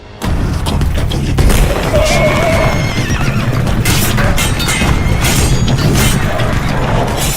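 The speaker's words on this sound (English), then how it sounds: "every footfall and every breath the horse takes is an extension of his performance" A horse neighs and snorts within a dense, loud cinematic sound mix, hoof footfalls and breaths layered under booming, continuous effects for a film.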